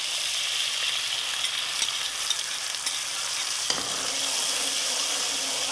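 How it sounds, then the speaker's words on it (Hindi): Onions go into a pan where ginger paste is frying for an aloo anday shorba, with a loud, steady sizzle and a burst of fresh crackle when they land, stirred close up. "अब हम इसके अंदर प्याज ऐड कर देंगे।"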